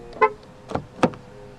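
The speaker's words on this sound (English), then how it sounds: "To lock the car, press the indentation on any of the front door handles" A 2019 Proton X70 1.8 TGDi locking after a touch on the front door handle sensor, giving three short chirps or beeps spaced about half a second apart, close by and clear over quiet surroundings.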